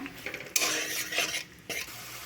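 Masala cooked down with whisked yogurt for an egg masala curry gets stirred in a pan: bursts of spatula scraping and clatter over a low sizzle, with short pauses between strokes.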